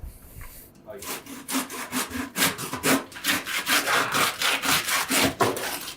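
Rapid rough rasping strokes, a very sharp knife sawing back and forth through a whole bluefin tuna in Japan, loud and close in a steady rhythm for several seconds.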